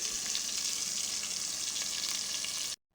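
Onions sizzling and frying in hot ghee in a pan, a steady dense crackling sizzle held close and loud for nearly three seconds before cutting off abruptly, with no voices.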